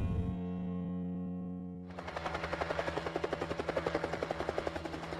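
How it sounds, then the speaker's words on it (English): A helicopter flying over a wild horse herd management area in western Utah, a steady engine drone giving way to loud, rhythmic rotor chopping close overhead, with no voices. "to learn more about gathering horses with helicopters, we take to the air over a herd management area in western Utah"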